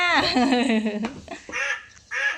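A toy's electronic duck quacks in a long buzzy run, then a few short clicks and two brief bursts after it.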